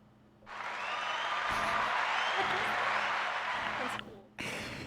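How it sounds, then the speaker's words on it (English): A sustained round of audience clapping at a podcast recording, dense and steady for several seconds before it tapers off and stops abruptly. "Everybody clap for her."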